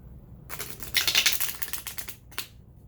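A quick flurry of papery riffling and soft slaps as tarot cards are shuffled close by, in bursts with a short final flick.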